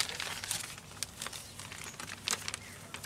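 A clear plastic bag crinkles and rustles in quiet, close bursts as it is handled over a potted plant's leaves.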